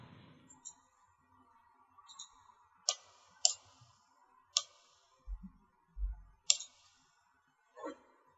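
A mouse clicks on an option in software, making a few sharp, quiet clicks spread out irregularly over a near-silent background with a faint hum and a few soft low thumps.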